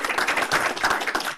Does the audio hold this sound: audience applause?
yes